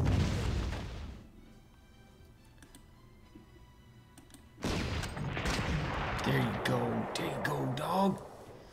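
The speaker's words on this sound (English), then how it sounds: "So at least he's backed up by artillery." Booming artillery fire and explosions in the Panzer Corps wargame. One heavy blast fades early on, then a dense burst of firing and impacts rolls in later, under a voice speaking.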